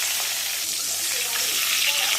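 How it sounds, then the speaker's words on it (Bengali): Continuous loud sizzling of eggplant slices frying in hot oil, close up, with a steady crackling hiss and no talking. "এবার একটা একটা করে সব বেগুন ভেজে নেব।"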